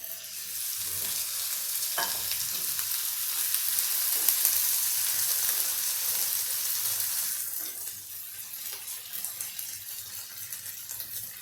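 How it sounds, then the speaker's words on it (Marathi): Onion and potato vegetable sizzles in a pan after a splash of water is added, a bright, steady hiss that swells and then eases, broken by occasional stirring clicks, close up and without speech. "थोडंसं पाणी या भाजीत घालते मी"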